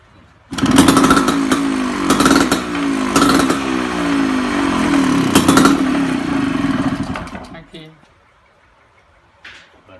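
A Rotag7 motorcycle engine runs close by with loud revs and blips over a steady idle, then cuts out and falls quiet near the end; a person talks over the engine.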